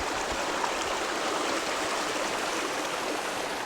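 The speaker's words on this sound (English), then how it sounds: "There's a little waterfall here." A small waterfall in a rocky gorge at El Questro Station pours steadily, a continuous close wash of running water with no breaks and no voices.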